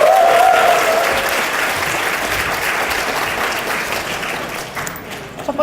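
Conference audience applauding after a lightning talk at a programming event, dense steady clapping throughout that starts loud and tapers slightly toward the end.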